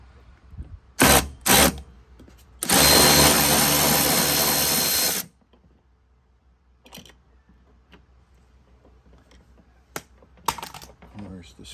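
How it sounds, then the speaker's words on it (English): A long socket wrench on a 13 mm horn bolt in a Sprinter van gives a few sharp clicks and then a loud, sustained ratcheting burst, followed by quieter scattered clicks and handling noises. "we're going to put a long socket in there, unloosen that, and then disconnect this horn"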